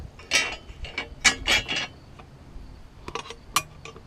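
Ratchet wrench working on bolts while an ebike rear rack is fitted, giving bursts of quick metallic clicking and clinks in uneven clusters, close and fairly loud, with quieter gaps between strokes.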